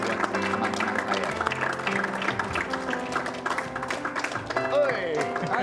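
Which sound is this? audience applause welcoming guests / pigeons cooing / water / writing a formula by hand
audience applause welcoming guests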